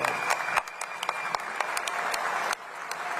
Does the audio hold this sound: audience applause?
yes